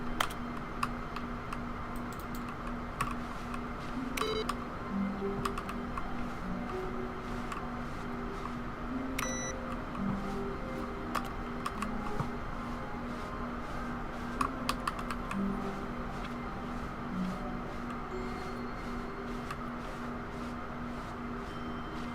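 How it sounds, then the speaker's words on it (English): Keyboard presses in The Stanley Parable game, sounding as sharp, scattered clicks and taps over a steady droning background hum, with no one talking. "you can hit the keyboard"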